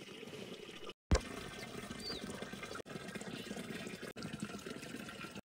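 Water runs steadily into a bottle outdoors at a campsite, a continuous soft trickling and filling sound with a brief gap and a small bump near the start.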